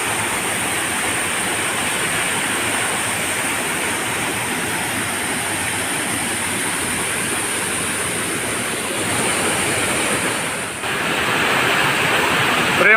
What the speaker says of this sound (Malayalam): രണ്ട് വ്യത്യസ്ത വെള്ളച്ചാട്ടങ്ങൾ സംഗമിക്കുന്ന സ്ഥലത്താണ് ഇപ്പോൾ നിൽക്കുന്നത്